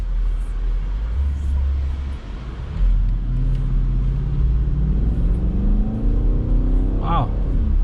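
A BMW X7 M50i SUV in sport mode accelerates smoothly, its engine rumble rising steadily under a cabin drone, heard from inside as the speed builds, with a voice talking.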